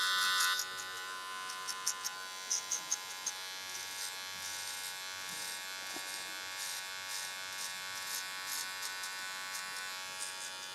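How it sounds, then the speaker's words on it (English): An electric hair clipper buzzes steadily through a haircut with its blade set half open, a close, continuous hum broken by brief sharper bursts as it bites into hair. "So we'll just adjust your clipper to half open."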